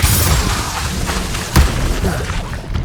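Defendo shield spell in the Hogwarts Legacy video game, heard as a rumbling, booming wash of combat effects with one sharp thud-like burst in the middle, then a softer fading tail, no talk over it.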